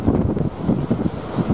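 Strong wind at sea blows across the microphone by the harbour on Phú Quý island, where large Vũng Tàu trawler boats lie at anchor; a loud, continuous buffeting rumble with no talk.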